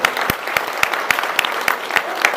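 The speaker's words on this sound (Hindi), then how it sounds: "अपने लिए तालियां बजाएं पहले," A political rally crowd in a hall claps in unison: loud, evenly spaced beats land about three or four times a second over a bed of scattered applause.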